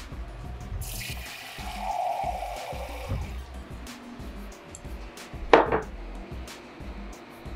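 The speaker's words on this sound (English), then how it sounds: "I'm gonna throw about 1/2 cup of water in here" Water runs from a kitchen tap into a container while making keto chicken tortilla soup, a steady stream rising in pitch as it fills, followed by a brief clink of dishes, with no talk.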